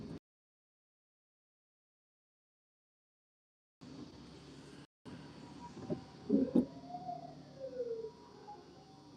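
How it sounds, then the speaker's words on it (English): A faint, distant ambulance siren wails with rising and falling tones, emerging from background noise after a stretch of near silence. "We got an ambulance somewhere."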